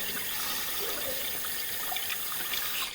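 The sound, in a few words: water running in sewer line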